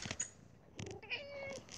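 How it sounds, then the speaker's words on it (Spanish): A pet kitten meowing close by indoors, two or three short high mews in quick succession, alone without talk. "Es que mi gatita se llama Kiara, amigo"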